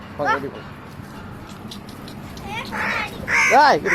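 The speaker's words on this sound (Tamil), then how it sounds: "நம்ம காக்கா கே எடுத்துட்டு வந்துட்டோம். சூப்பரா கத்துதுல." A pet crow caws in harsh, close bursts, one at the start, then a few more rapid calls near the end, with people talking in between.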